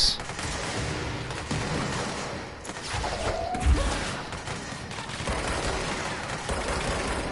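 Rocket blasts and heavy weapon fire in the action game Control, with a dense, continuous rumble of explosions and gunfire and a sharp, deep impact midway through.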